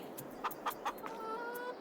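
Chickens on a farm, part of a flock of 59 hens and a rooster, give a few short clucks in quick succession, then a thin drawn-out call, all at moderate distance with no talking.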